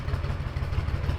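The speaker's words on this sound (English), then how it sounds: "it's idling pretty consistently" A 37-year-old Suzuki Intruder 1400 V-twin motorcycle idles close by, a low, loping rumble with steady uneven pulses and a rough clattering texture over a brief stretch.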